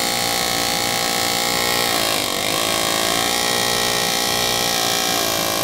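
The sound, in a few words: engraving tool cutting metal of a Uberti Colt revolver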